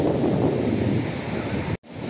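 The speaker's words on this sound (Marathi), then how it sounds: "आवाज येत असेल तुम्हाला लाटांचा." Sea waves breaking on Kelve beach at high tide make a loud, continuous roar, with wind buffeting the microphone and a brief cutout just before the end.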